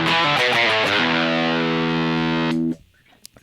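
A distorted electric guitar, a PRS SE David Grissom gold top through a Rat distortion pedal, plays a quick riff, then holds a fuzzy, saturated chord that rings out before cutting off sharply.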